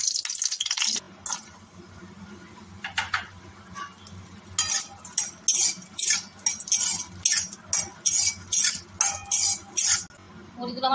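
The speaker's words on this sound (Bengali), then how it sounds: "বড়িগুলোকে আমি ভেজে নেব।" Lentil bori frying in mustard oil in a kadai, with steady rhythmic clinks and scrapes of a spatula against the pan over a low sizzle, close and moderately loud.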